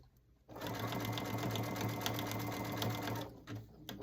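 A sewing machine runs steadily for about three seconds, stitching a dish drying mat into a basket, a close rhythmic whirring hum that stops, followed by a brief restart.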